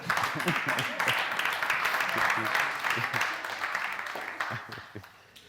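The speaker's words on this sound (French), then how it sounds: "Merci de faire des applaudissements, Ziza, là, s'il vous c'est plaît." Audience applause for Ziza at a live studio variety show, a steady wash of clapping running through the whole stretch, moderately loud and close, with a host's voice and crowd chatter over it before it tapers off at the end.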